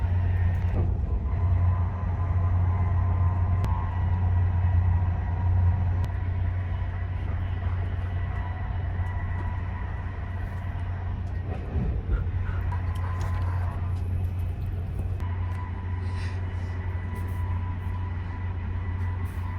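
Steady low rumble and rattling hum of a moving train interior, continuous and even, with faint clanks and creaks throughout.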